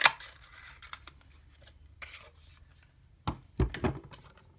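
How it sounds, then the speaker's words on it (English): Scissors snip through red cardstock at a craft table, a few quiet crisp cuts early on, then louder sharp snips near the end. "I've got my scissors and just cut up the centre."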